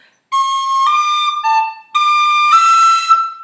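A few clear, high whistle notes from the Irish tune Kitty's Rambles, some slurred smoothly into the next and others tongued crisply and separately, played alone.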